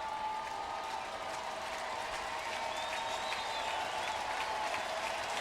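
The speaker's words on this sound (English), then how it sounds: "This crowd is in it." Steady crowd noise at a Marlins–Cardinals baseball game in St. Louis, with fans cheering and applauding continuously, a dense, even roar with some whistling on top.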